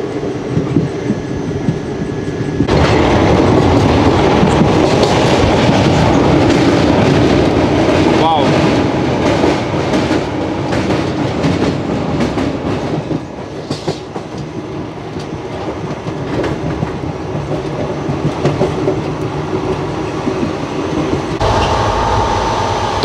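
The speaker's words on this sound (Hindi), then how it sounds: "हमारी ट्रेन रतलाम से निकली, पूरा एक चक्कर उसने मारा और ब्रिज के ऊपर से ज़बरदस्त रफ्तार में गुजरी" The Veerbhoomi Chittorgarh Express rushes over a bridge at speed out of Ratlam, a loud, sustained roar of wheels with clattering rail joints and brief squeals, swelling in and easing near the end.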